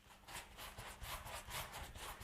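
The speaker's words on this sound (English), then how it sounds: "Now what I'm doing with the gesso, I'm just using a gesso brush." A cheap coarse bristle gesso brush sweeps primer across canvas in soft, rhythmic scratchy strokes, faint and close, with no talking.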